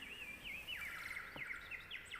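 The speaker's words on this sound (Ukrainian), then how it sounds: "Це підхопили пісню Соловейка тисячі співучих птахів." Many songbirds singing together, used as a sound effect in a children's story: bright overlapping whistles, trills and chirps at moderate loudness over a soft background hiss, with no speech.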